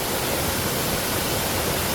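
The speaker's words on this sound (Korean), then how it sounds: "가까이 갈수록 웅장한 폭포 소리가 시원함을 더해주네요." Artificial waterfall beneath a suspension bridge, a loud, steady roar of falling water heard up close with no break or voices.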